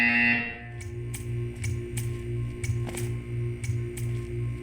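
A repeating electronic buzzer in Portal 2 pulses in a steady rhythm over a low hum, each buzz short and evenly spaced.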